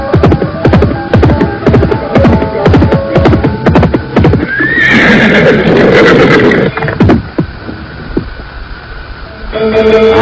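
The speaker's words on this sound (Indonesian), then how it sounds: "Mendadak dia menghentikan kudanya" Horse clip-clop hooves in a steady rapid rhythm on a road, then a loud whinny as the rider halts his mount, followed by snorting and quieter shuffling before hoofbeats resume briefly.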